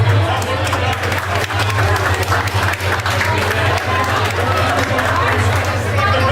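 Wedding reception guests give a round of applause for the grandparents, a dense, continuous clapping from a crowd with chatter mixed in.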